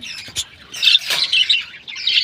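Pet birds squawk in harsh, close bursts, with a sharp call early on and then a rapid run of squawks packed closely together. No one talks.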